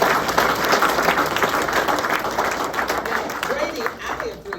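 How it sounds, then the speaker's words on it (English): Steady applause from an audience fills the room, dense clapping throughout with voices mixed in underneath. "So let's give her a round of applause."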